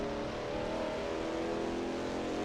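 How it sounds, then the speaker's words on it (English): A 1939-era race car from the Eläintarhanajot circuit in Finland, recreated in Assetto Corsa, droning steadily at high revs through a lap, moderately loud and close, with no talk. "Oh, I'm gonna get lapped by the second car."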